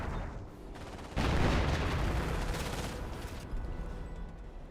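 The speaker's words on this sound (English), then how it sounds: "MG42 hitting the Knights Cross holders now" An MG42 machine gun firing in the World War II strategy game Company of Heroes, a continuous rattling burst that kicks in loudly and rolls on amid other battle noise.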